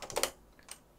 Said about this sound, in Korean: 제가 좀 키보드를 세게 누르는 편이거든요